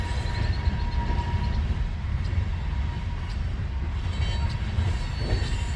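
A long freight train of boxcars rolls past nearby in a steady, dense rumble of wheels and cars, with faint clanks and a light squeal over the continuous roar.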